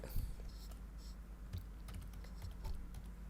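Python code being typed on a computer keyboard: quick, uneven key clicks in a steady run over a low background hum, close and fairly quiet.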